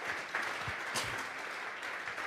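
A church congregation at a Sunday morning service breaks into steady, dense applause, with the clapping sustained and fairly close for the whole stretch.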